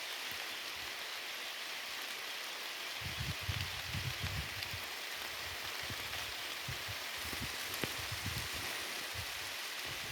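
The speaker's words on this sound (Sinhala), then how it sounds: "ඔන්න වැස්සක් වැටෙනවා" Quiet, steady rain patters on surfaces, with soft low thumps of drops coming and going in the background.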